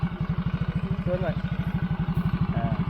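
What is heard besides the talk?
motorcycle engine with Takayama cylinder block idling unevenly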